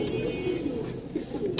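Pigeons coo softly in a low, rolling murmur across a short stretch at a Bangladeshi pigeon market, fairly faint and continuous, without talk.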